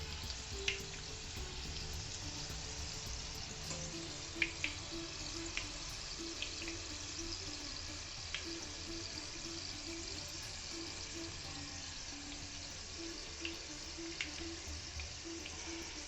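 Sugar-free sweets with a dry fruit filling fry on a medium flame, a constant quiet sizzling hiss with faint scattered pops throughout and no voices.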